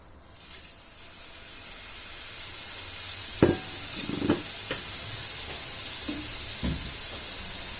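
Food goes into a well-heated pan and starts sizzling, a steady hiss that builds, with a few knocks and clatters of the pan and utensil near the middle and end.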